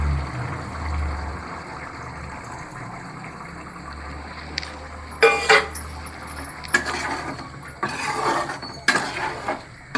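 Tamarind water is poured into a pot of okra kara kuzhambu on a gas stove. Several short splashing, clattering bursts come close together near the end, over a quiet background hum.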